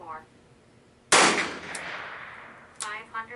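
A single sharp, loud report from a Webley Mark IV revolver firing MagTech .38 S&W ammunition at a target about ten yards away through a chronograph, with a decaying echo and brief voices before and after.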